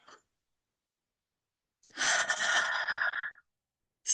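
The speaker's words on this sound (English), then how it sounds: "Taking another deep breath." One deep breath taken during a calm stretching exercise, a soft airy inhale and exhale lasting about a second and a half, close and quiet, with brief faint breaths at the edges.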